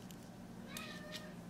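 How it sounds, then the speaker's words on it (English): A pet cat meows faintly in the background of a quiet room, two short calls under a steady low hum. "I don't know if you can hear my cat on the background, but she likes to be very vocal"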